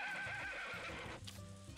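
A horse whinnies loudly with a wavering, quavering neigh, followed by a few hoof thumps and shuffling nearby.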